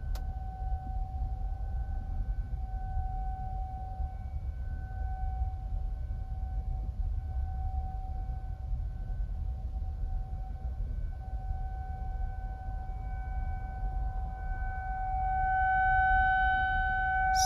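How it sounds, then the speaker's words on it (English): A steady siren-like tone with harmonics, from a DJI Avata 2 drone fitted with three-blade Master Airscrew propellers, continues loud and unbroken for the whole stretch and rises slightly in pitch near the end. "Siren."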